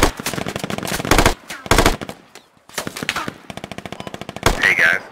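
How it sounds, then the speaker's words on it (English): Bursts of MG5 machine gun fire in the Squad video game, loud rapid rattling volleys broken by short pauses, with a steady run of evenly spaced shots and a sharp burst at the end. "do not get suckered into the MG5 in the north. That's their blind fire"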